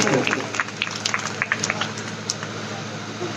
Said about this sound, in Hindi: पवई कमेटी के लिए जोरदार तालियां बजाएं